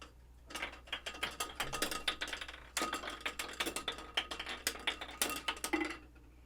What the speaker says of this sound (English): Anyways, let's roll the dice.